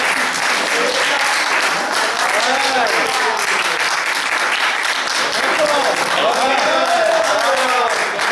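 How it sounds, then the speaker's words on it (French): Steady, loud applause from a crowd fills the whole stretch, dense clapping with voices calling out underneath. "Donc on applaudit."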